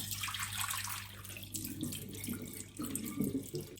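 Water pours and trickles out of glass jars of sprouting legumes as they are tipped to drain, a steady close splashing with gurgling bursts near the end.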